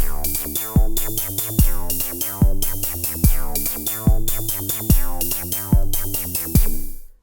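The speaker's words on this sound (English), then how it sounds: "It's 2 bars long, I've got a kick, a bass and a hat, and it sounds like this." A two-bar electronic drum loop repeats: punchy kick thumps with a deep bass line, ticking hi-hats on top, steady tempo, no voices, with saturation adding depth.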